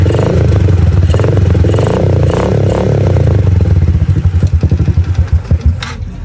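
A freshly overhauled motorcycle engine runs loud and close with a rough, clattery mechanical rumble, steady at first, then breaking into uneven pulsing beats toward the end.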